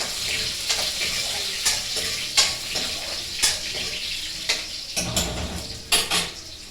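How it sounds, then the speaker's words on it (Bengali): Garlic frying in hot oil with black cumin seeds on a home kitchen stove, a steady broadband sizzle with scattered sharper pops and crackles, close and fairly loud, continuous throughout with no talking. "রসুনটা লাল লাল ভাজা হবে"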